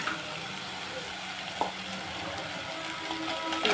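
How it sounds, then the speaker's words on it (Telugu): Crabs frying in hot oil in a home kitchen, a soft steady sizzle with light stirring, fairly quiet throughout. "మనం ఇప్పుడు బాగా ఆయిల్ పైకి వచ్చేస్తుంది కదండి. ఇప్పుడు మనం పీతలు ఇందులో వేసేసుకుందాం"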